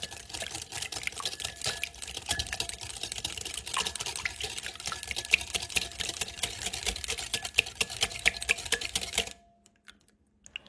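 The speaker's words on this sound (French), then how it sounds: "ajoute 2 œufs de gros calibre et fouette jusqu'à avoir bien tout mélangé" Eggs and fresh lemon juice being whisked together for a gluten-free lemon cake, a steady rapid clatter of whisk against bowl that runs evenly for about nine seconds, then stops abruptly into near silence.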